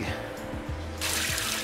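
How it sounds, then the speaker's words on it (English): Water poured from a pot into a drain, the draining done while cooking beef tongue; a sudden broadband rush of splashing liquid starts partway through over low background murmur. "Tapon ko lang yung tubig."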